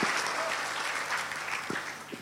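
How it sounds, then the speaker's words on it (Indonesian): An audience at an Indonesian talk applauds in a soft, distant patter of many hands, steady and fairly faint across the short stretch. "Tepuk tangan buat semuanya."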